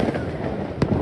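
Firecrackers go off during the Tihar festival: a dull rumble of distant bangs, then one sharp, close crack near the end, followed by fainter pops.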